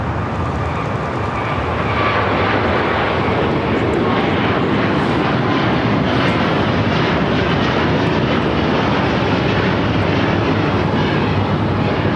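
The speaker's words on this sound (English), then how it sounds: "This is Qatar Airways 740 taking off to Doha on the A350-1000." Qatar Airways Airbus A350-1000 taking off from runway 25 right at Los Angeles, bound for Doha: a loud, continuous broadband engine roar that holds steady and builds slightly across the whole stretch.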